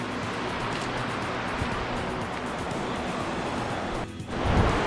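Fast-moving stream water rushes continuously in Zion, a broad, loud wash of churning flow close by, with a slight dip and a gust of wind near the end.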